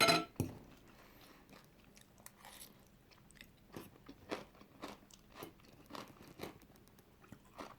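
Crunchy fried chicken being chewed up close, a sharp bite at the start followed by a steady series of crisp crunches in an otherwise quiet room.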